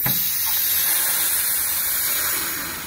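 Air hisses steadily as it is drawn into a diesel fuel tank through a partly loosened cap, a close, continuous broadband rush that holds level for a few seconds before easing off slightly.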